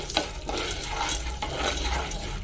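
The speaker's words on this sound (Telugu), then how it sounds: "వేడి నూనెలో కొద్దిసేపు అయితే ఫ్రై అవ్వాలి" Popcorn kernels fry in hot oil with a dense, continuous sizzle, while a utensil scrapes and stirs a few times close by. No one speaks.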